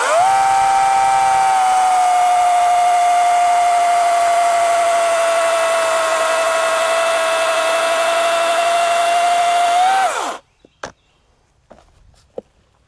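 An Oregon CS300 self-sharpening chainsaw cuts through hard wood with a loud, steady, high-pitched whine that holds for about ten seconds. It then drops off sharply, and a few faint clicks follow in near silence.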